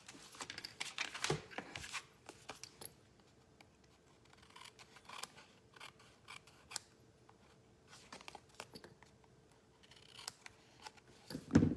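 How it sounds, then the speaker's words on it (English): Scissors trim a strip of cardstock with a series of quiet, crisp snips and light paper handling, scattered irregularly over several seconds with no talk. "So this I've cut a little long, so I'm just going to trim it."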